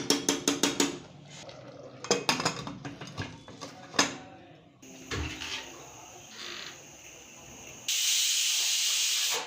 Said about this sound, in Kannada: ಈಗ 1 ವಿಸಿಲ್ ಕೂಗಿಸ್ಕೊಳ್ಳೋಣ